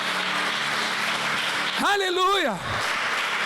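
A church congregation applauds in a steady, continuous wash of clapping, while a voice briefly calls out over it near the middle.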